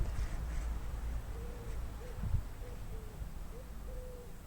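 Soft, low cooing calls repeat a few times over a steady background hum, faint and somewhat distant.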